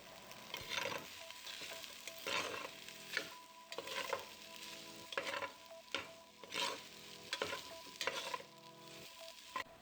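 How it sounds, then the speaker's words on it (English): Saltfish and pigtail fry in a pot while being stirred, giving a steady sizzle with repeated scraping strokes roughly every second, close and moderately loud, with no voices. "next we're going to add the saltfish as well as the pigtail. I'm just going to mix that up and let it cook for a few minutes"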